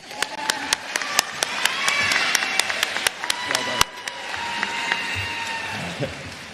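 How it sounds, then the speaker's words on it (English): Commencement audience applauding and cheering, with sharp separate claps standing out over a steady wash of clapping and a brief voice. "That also deserves some applause."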